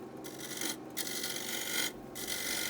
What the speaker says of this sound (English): With a sharp scraper you should get shavings and be able to take the surface down quickly.